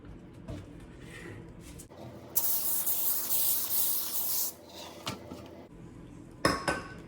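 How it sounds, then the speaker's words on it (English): A short burst of olive oil cooking spray hisses for about two seconds onto foil amid kitchen clatter, with clinks of pans and utensils before and after. "I like to use olive oil cooking spray."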